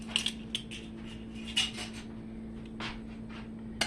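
Chopped onion going into a pan for chicken enchiladas, bringing a series of light clinks and scrapes of utensils against cookware over a steady electrical hum, close and moderately quiet.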